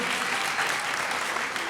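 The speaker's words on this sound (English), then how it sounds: "How about a big round of applause for Cha-cha?" Audience applause at a comedy hypnosis show, a dense, steady burst of clapping filling the short clip at moderate volume.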